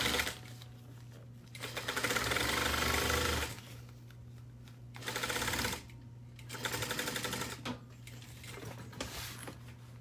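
Sewing machine stitching a half-inch seam allowance, running in several bursts of rapid mechanical whirring separated by short pauses, close and moderately loud, with no talk.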